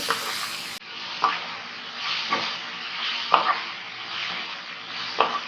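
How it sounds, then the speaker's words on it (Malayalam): Crispy fried chicken pieces are stirred and tossed in a sizzling pan, with soft scraping strokes at a steady rhythm over a constant frying hiss, close and moderately quiet. "പെട്ടെന്നൊന്ന് മിക്സ് ചെയ്തെടുക്കാം."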